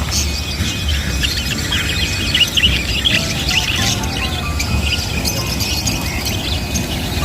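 Many small birds chirp and squeal continuously over a dense, busy background murmur, their high calls overlapping without pause.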